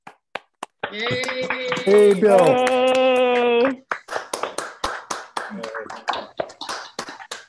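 Participants in an online meeting for a global governance award clap with microphones unmuted: a sustained tonal sound with cheering voices, then scattered, uneven claps and taps from several people.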